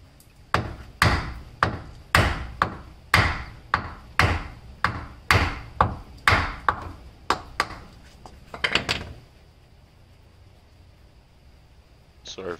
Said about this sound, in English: grab a block of wood, put it up against the axle bolt,